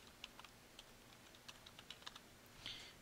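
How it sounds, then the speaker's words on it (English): Typing an email on a computer keyboard, quiet irregular clicks of individual keys in a loose burst, soft and close, with no one talking. "you're going to type in your email"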